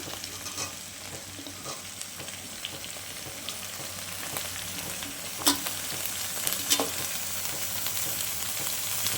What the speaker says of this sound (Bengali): এবার আমি বেগুনটা দিয়ে দেবো। অল্প একটু লঙ্কা কুচি